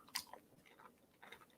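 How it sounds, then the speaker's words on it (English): Someone chews chocolate up close, giving a few soft, quiet crunches with short bites and pauses, recorded faint and alone without talk. "this makes a lot of crunch, so I apologize for the crunch"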